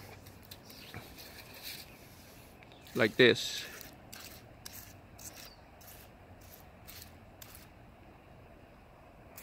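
Two quick hissing spritzes of neem oil from a spray bottle break a quiet background, and a voice speaks briefly.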